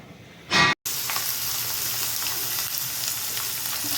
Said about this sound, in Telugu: మటన్ ఇది మగ్గుతూ ఉంటుంది అన్నమాట. మధ్యలో కలుపుతూ ఉంటాను.